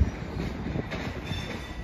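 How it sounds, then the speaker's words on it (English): An LIRR commuter train made up of M3 cars rolls into Jamaica station, a steady close rumble of wheels on rail with faint squeal. "here comes train 2962 from Atlantic Terminal to Jamaica with yet another set of M3s"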